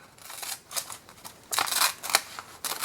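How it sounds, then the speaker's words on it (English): Scissors snip around a figure in a page torn from a magazine, a string of short crisp cuts in bursts with brief pauses, close by and moderately loud with no talking. "And then we're going to cut around"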